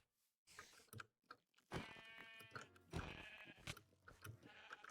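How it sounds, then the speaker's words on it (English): Several sheep in the video game Minecraft, Vault Hunters modpack, bleat in overlapping, wavering calls, fairly close, with a few soft clicks in between and no talking. "Lots of sheep. Lots of sheep."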